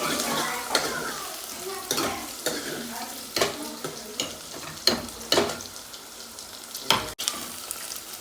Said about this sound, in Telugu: పచ్చిమిర్చి ఇది వేసుకొని ఓకే ఇప్పుడు ఇది గోలేంత వరకు కలబెట్టుకుంటుంది